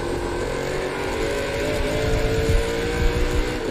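Onboard roar of a NASCAR Pinty's Series race car, Larry Jackson's No. 84, during the 2022 Fall Brawl at Delaware, a loud steady engine drone with rising pitch as it accelerates, continuous throughout.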